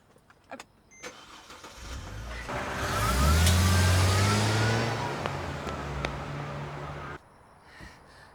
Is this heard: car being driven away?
yes